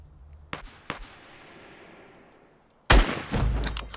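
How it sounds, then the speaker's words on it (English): Suppressed weapon gunfire in a video game: two sharp, separate shots, a fading tail, then a loud, dense burst of rapid fire close by, with no talking. "someone's using a suppressed weapon"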